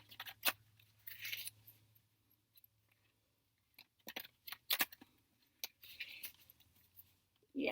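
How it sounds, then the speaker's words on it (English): Tarot deck with shiny silver backs shuffled by hand in quick, crisp bursts of card riffling and tapping, separated by short pauses, close and fairly quiet. "Shuffle these a little bit."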